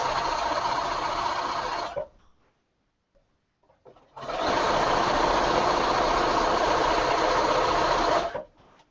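A sewing machine stitches thin binding trim onto a pillowcase at a scant quarter-inch seam, its motor whirring steadily in two runs, a short one, then a pause, then a longer burst, with no talking.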